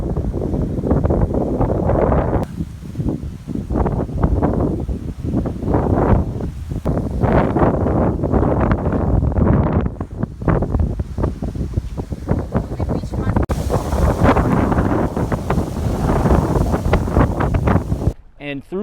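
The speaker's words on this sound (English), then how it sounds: "You get those wind gusts now." Strong Florida wind gusts buffet the microphone in heavy, rumbling bursts that swell and ease unevenly over nearly twenty seconds, with a voice heard through the roar.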